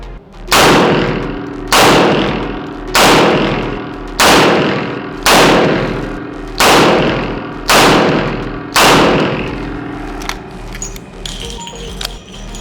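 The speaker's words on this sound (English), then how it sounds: "Shooting a wheel gun like this on the flat range is very cathartic." A revolver fires eight evenly spaced, loud, sharp shots on an outdoor flat shooting range, each shot ringing out with a brief decay before the next, followed by a few quieter clicks and handling sounds.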